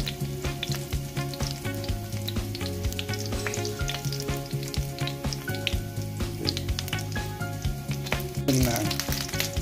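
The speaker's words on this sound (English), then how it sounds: "So let's fry it until it's" Frying in a pan, ahead of a beef steak and bell pepper dish, makes a loud, busy sizzle with constant crackling and spatter, and no one talks.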